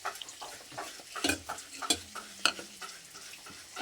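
Onions fry in a pan for an egg curry, a soft steady sizzle broken by repeated scraping stirs of a utensil against the pan, close and moderately quiet with no talk.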